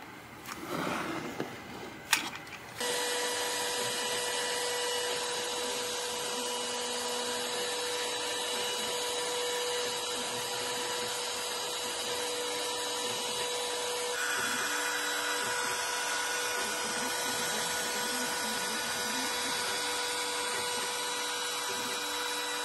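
A CNC router cuts a rosewood veneer for a Gibson Les Paul guitar headstock, starting up after a few seconds of clunks into a steady, high-pitched whine with faint rhythmic pulsing under it, continuous and close without talking.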